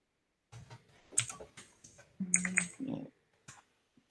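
Clicky computer keyboard typing comes in short irregular bursts of keystrokes with brief pauses between them, close to the microphone.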